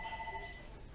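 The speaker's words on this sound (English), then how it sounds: "You know that's our phone ringing." A telephone rings at home during angora rabbit grooming, a short electronic ring tone heard at moderate distance over a steady low hum, fading after the first half second.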